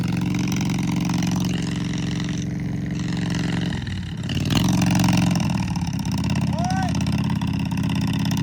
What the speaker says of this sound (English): I don't know if that mower is supposed to sound like that